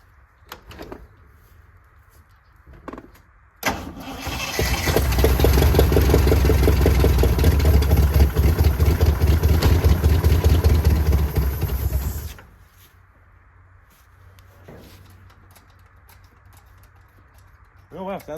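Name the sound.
Jeep J20 engine cranking and starting after a year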